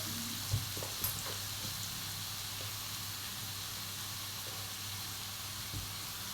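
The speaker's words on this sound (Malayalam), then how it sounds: "ഇനി ഇത് നന്നായി ഒന്ന് വഴറ്റിയെടുക്കണം." Onions sautéing for chicken kurma make a faint, even sizzling hiss that runs throughout, broken only by a few soft knocks from the pan.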